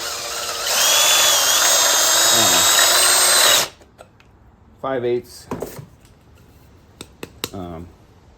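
A power drill with a 5/8 bit bores into wood, whining loudly and steadily for a few seconds, then stops, followed by scattered knocks, clatter and short bursts of speech.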